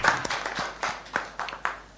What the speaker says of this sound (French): Applaudissements pour Olivier